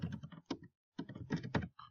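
Bursts of computer keyboard typing as a date is entered, quick clustered keystrokes in two runs separated by a short pause, close and moderately loud.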